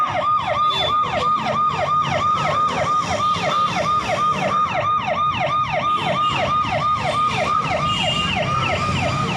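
A loud police siren wails in rapid repeating rising-falling sweeps, close by and continuous, with faint traffic rumble beneath.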